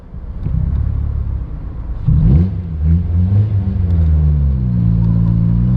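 A 2017 Morgan 4/4 engine rumbles close by during a hill start, idling low, then revving up around midway with rising and falling engine tones that settle into a steady drone.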